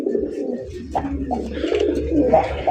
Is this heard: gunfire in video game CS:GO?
no